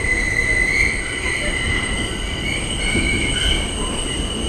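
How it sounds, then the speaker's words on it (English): An N subway train's wheels squeal continuously on a curve as it turns from Canal Street onto Broadway, a loud sustained metallic screech over steady rumbling rail noise. "The screeching that you're hearing now is the train turning off of Canal Street onto Broadway"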